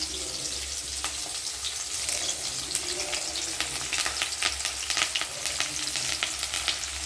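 Dried red chilies frying in a generous amount of oil, a steady soft crackle with scattered sharp pops and low background hum, moderately loud and continuous, no talk.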